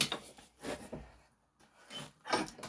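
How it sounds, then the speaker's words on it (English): A hand plane shaves wood in a few close, rasping strokes, each pass a short swishing scrape with a brief pause between them. "as I'm planing, and just tilt my wrist ever so slightly for a few passes"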